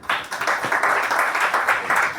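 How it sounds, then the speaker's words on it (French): Audience applause at a book-signing event for the literary work 'Les chroniques d'EMAK', a steady dense patter of many hands clapping, fairly close and sustained for about two seconds without pause. "Est-ce qu'on peut applaudir, s'il vous plaît?"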